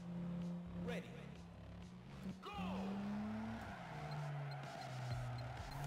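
Tires squeal in long sliding whines as a car drifts in the racing game Juiced, engine droning steadily beneath, with a person talking over it.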